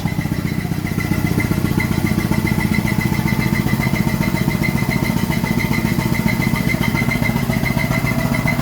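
An Ashworth & Parker steam engine drives a dynamo, chuffing in a steady, fast, even rhythm with a loud mechanical beat and a faint ringing whine above it.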